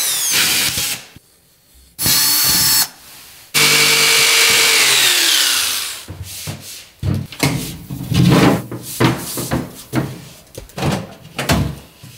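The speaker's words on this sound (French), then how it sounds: "L'ouverture pour la plaque à poussoir, le mieux, c'est que tu la découpes à la scie sauteuse." A jigsaw cutting plasterboard whirs in loud bursts, with a long sustained run that winds down, followed by scattered clunks, knocks and handling sounds of the board.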